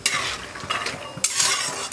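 Dry fruits roasting in ghee are stirred in a pan with a utensil. Scraping and soft clinks sound close over a light sizzle, with a few louder strokes.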